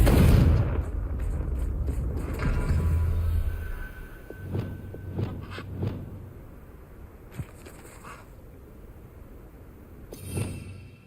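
Confringo fire spell cast repeatedly in the Hogwarts Legacy game, a series of booming blasts and sharp impacts, loud and close, with quieter gaps and rumbling between bursts.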